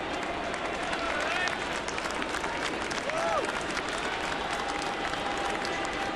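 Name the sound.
baseball crowd cheering after home run at Rogers Center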